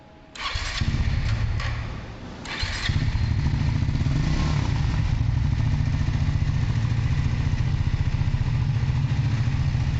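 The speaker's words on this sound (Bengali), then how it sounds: "তোমরা গাড়ির মানে অরিজিনাল যে এক্সস্টটা আছে সেটা একবার শুনে নাও।" A new motorcycle with its original stock exhaust starts up close by, then settles into a loud, steady idle with an even, throbbing pulse that runs to the end, with no talking.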